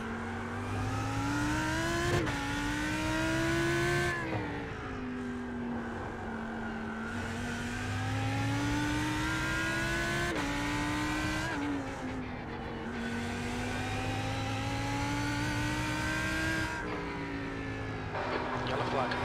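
A race car engine in the iRacing sim racing game drones steadily, its pitch climbing and dropping sharply with gear changes, and a voice is faintly heard at times.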